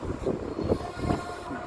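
An outdoor train arrives with a low rumbling roll and rhythmic clattering pulses, moderately close and steady.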